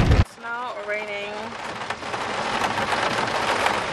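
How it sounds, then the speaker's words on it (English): Rain falls steadily in a continuous hiss after a brief loud bump at the start. A voice speaks early on, then the rain continues alone. "It is now raining."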